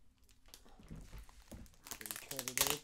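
A package being opened by hand: soft crinkling at first, then growing louder crackling and rustling of plastic packaging toward the end, with someone talking over the start.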